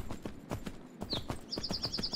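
Horse hooves clip-clop at a steady walking rhythm in the Myth of Empires video game, fairly close and moderately loud, with a few brief higher chirping tones over the last half.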